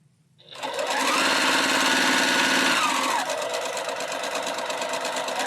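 A sewing machine stitches a quilt block, starting up, running at a fast steady hum, then shifting pitch partway through, close and clear.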